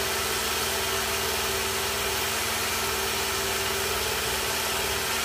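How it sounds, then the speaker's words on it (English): A running sanding belt on a knife-sharpening machine hums and rasps steadily while a sponge is pressed into it, a loud, even broadband whir with no talk. "And what that sponge does, it digs into that belt"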